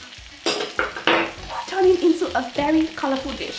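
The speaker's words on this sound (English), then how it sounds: "And I'm just going to keep stir frying for another 2 to 3 minutes, just to soften it up a bit" Chopped onions with green and red bell peppers stir-fry in a pan for chili chicken, giving a steady sizzle broken by scraping stirs, while a voice speaks over it.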